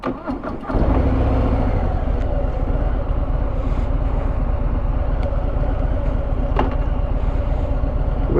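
Harley-Davidson Sport Glide 107 motorcycle engine fires up after a brief start, then settles into a loud, steady, throbbing close-up rumble with slight rises as it pulls away, with no talk over it.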